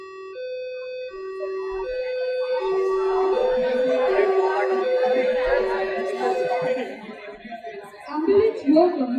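An ambulance siren alternates between two tones for a few seconds, then gets buried under music and a busy mix of sound.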